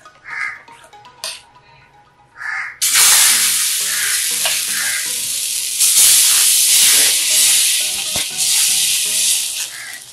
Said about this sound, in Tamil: இது வந்து எல்லாருக்கும் ஊற்றிட்டு இருக்கேன், இது அரிசி மாவு தோசை